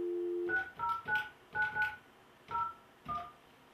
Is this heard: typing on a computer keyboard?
no